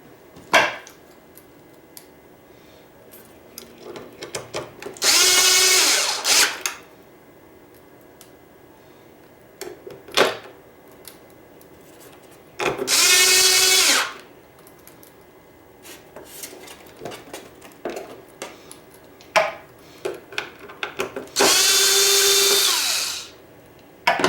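A power drill drives screws into a hoverboard motherboard, with three loud whirring bursts of a few seconds each. Quieter clicks and handling of small parts fill the gaps between them, and no one talks.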